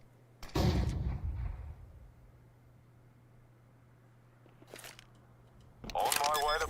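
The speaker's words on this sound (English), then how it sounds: "Flashbang." A flashbang grenade goes off in a video game as a brief loud burst, followed by a quieter ringing hum, with another burst toward the end.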